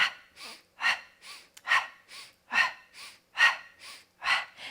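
Forceful rhythmic breathing during a Pilates core exercise, sharp pumped exhales alternating with stronger and softer breaths about twice a second, close and alone without talk.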